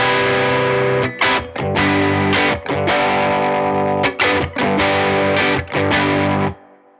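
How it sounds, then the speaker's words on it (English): Whimsy Machines Sweet Tooth pedal in its overdrive mode on an electric guitar, sounding as several sustained distorted chords and riffs broken by brief pauses, played loud and close with no talking until the final chord fades out. "Right now we are in the kind of overdrive."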